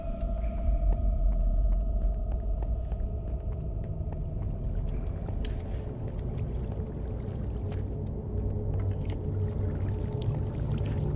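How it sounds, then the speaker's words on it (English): Flowing water in the Minecraft video game, a continuous pouring, gurgling rush with a low rumbling undertone and scattered splashy clicks, steady throughout with no talking. "I hear water this way"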